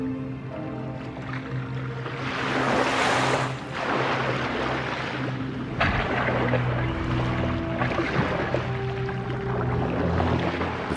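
Tossing ocean waves surge and wash in rough bursts, with a low tonal drone of a boat engine running underneath, moderately loud and close.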